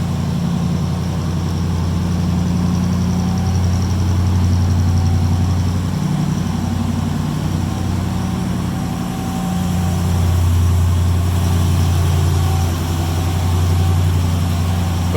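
A 1951 Pontiac Streamliner fastback with an electric fan idles steadily up close, a smooth low rumble with a faint whirring layer and gentle swells, no voices.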